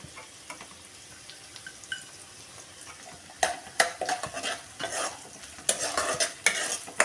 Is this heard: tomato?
yes